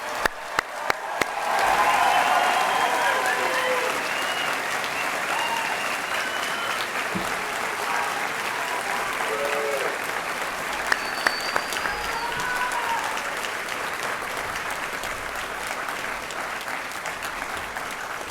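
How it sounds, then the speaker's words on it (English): Sustained audience applause for Bachelor of Science graduates at the NC State Chemical and Biomolecular Engineering commencement, a broad, steady roar of many hands clapping with scattered cheers and whoops, a few nearby sharp claps standing out. "Let's give a big round of applause for all our Bachelor of Science recipients."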